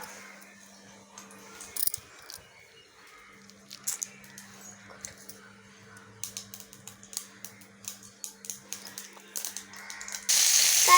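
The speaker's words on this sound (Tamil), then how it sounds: "தாளிப்புக்கு எண்ணெய் ஊற்றிட்டோம் கடுகு போட்டோம்" Mustard seeds sputter and pop in hot oil during tempering for a quick tomato chutney, with scattered close crackles and snaps over a steady low hum, ending in a brief burst of sizzling hiss.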